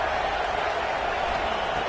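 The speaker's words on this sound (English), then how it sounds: "the crowd really making some noise now, trying to help out this defense to get this stop near the goal line" Stadium crowd in the NCAA 25 college football video game roaring near the goal line, a dense, steady wash of cheering and noise that stays loud throughout the brief moment.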